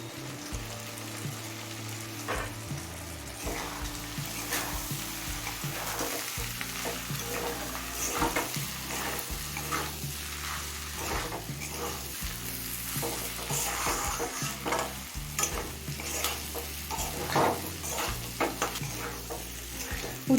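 Bitter gourd and potato pieces fry and get stirred in fish oil in a pan, a steady close sizzle with repeated scraping strokes of the spatula throughout.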